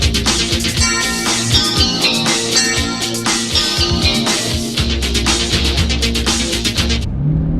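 A Ferrari Testarossa being driven in Florida, its engine a loud, steady rumbling drone heard from inside the car with some rises in revs and no talking.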